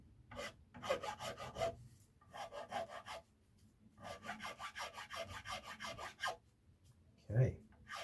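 A hand file or rasp smoothing a piece of wood in repeated rhythmic strokes, each a rough rasping burst with short pauses between, close up and moderately quiet, with a faint thump near the end.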